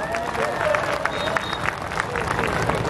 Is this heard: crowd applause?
yes